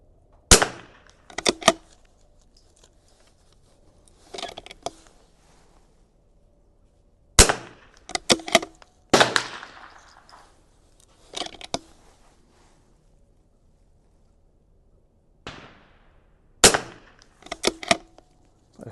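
A Vudoo V22S .22LR rifle fires at a 100-yard range: sharp, fairly quiet cracks spaced a few seconds apart, with small bolt and handling clicks between shots.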